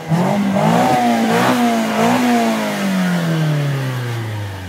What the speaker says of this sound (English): Have a listen to this, because it's got the standard Autech extractors.